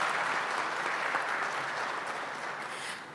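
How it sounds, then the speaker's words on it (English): A business summit audience applauds steadily in a large hall, a dense, even wash of many hands clapping that holds for a few seconds and tapers slightly at the end, with no talking over it. "Please give a round of applause"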